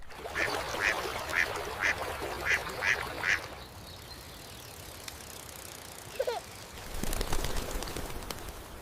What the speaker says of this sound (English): Wow, look at all the ducks.